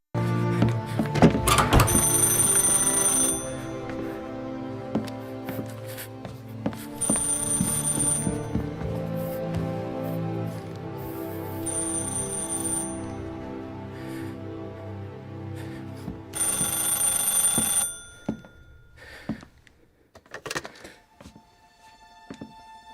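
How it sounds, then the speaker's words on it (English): An old-fashioned telephone bell rings in repeated bursts during a 1930s-era crime scene in Mafia: Definitive Edition, sounding over a music score and tailing off into scattered knocks and thuds near the end. "As he looks around, he hears the phone ring."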